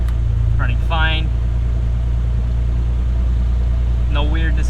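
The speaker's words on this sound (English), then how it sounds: "It seems pretty normal for what this truck usually idles at." A truck engine idles at a steady, even low rumble close up throughout, with no misses, while a voice speaks briefly at the start and end.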